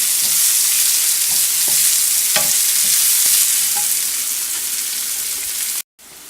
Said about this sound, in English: we'll add in our sliced onion and let that do its thing